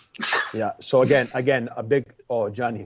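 A single sharp sneeze bursts out at the start of a soccer podcast interview, followed immediately by someone talking.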